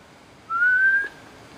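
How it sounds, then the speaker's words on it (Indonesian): A single rising human whistle, clear and steady, lasts about half a second inside an abandoned building. "Coba gua bersiul, men."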